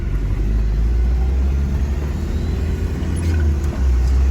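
A 1992 Isuzu Rodeo 3.1 turbo diesel with a five-speed manual and 4x4 pulls on the road, a loud, steady low engine drone and road rumble filling the cabin without talk.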